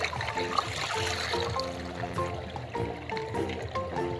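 Toys from a rice field being washed in a basket of water, steady sloshing and trickling water close up with continuous splashing throughout.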